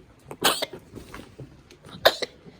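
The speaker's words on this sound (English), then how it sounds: "Who's coughing?" An animal coughs in a few harsh, raspy bursts close by, with short pauses between them in an otherwise quiet space.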